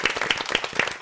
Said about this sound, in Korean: 세 번째 다시 한번 뜨거운 박수